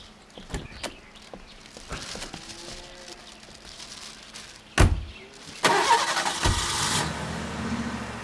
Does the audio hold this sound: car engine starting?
yes